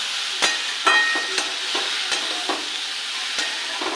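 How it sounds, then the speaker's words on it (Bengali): Boiled dal for egg tarka is stir-fried in hot oil in a pan, a bright steady sizzle punctuated by several sharp spatula scrapes and taps at a brisk, uneven pace. "এবার দিয়ে দেবো তরকার ডাল সেদ্ধ করে রেখেছি। এইটাকে কষিয়ে নেব"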